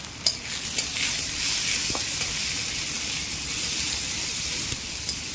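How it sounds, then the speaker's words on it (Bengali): Chopped onions frying in hot oil with whole garam masala and dried red chillies for a Bengali-style fish dish, producing a dense steady sizzle close by, with an occasional faint utensil tap and no talking. "এবার কেটে রাখা পেঁয়াজের কুচিগুলো তেলে দিয়ে দেবো।"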